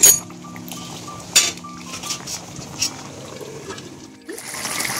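A lid clinks down onto a cooking pot of chicken curry with one bright metallic clatter, then a second lighter knock, over a steady low kitchen hum and faint trickling.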